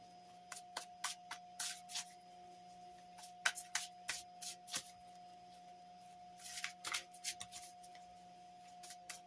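Tarot cards are shuffled and drawn by hand, making a run of soft, quick riffling and flicking bursts in irregular clusters, close and fairly quiet, with a steady faint hum underneath and no talking.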